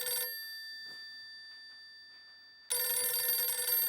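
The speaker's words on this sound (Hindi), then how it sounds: "फोन, मोबाइल बज रहा है।" A mobile phone rings at night: a short burst of electronic ring tone, a pause of quiet, then the ringing returns loud and sustained.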